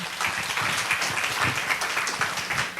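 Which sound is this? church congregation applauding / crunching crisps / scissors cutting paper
church congregation applauding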